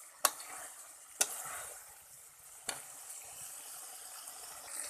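Soybean chunks are sautéed in a pan with a faint, steady sizzle. Three sharp scraping or clanking spoon strokes stand out close by, separated by pauses, and nobody speaks.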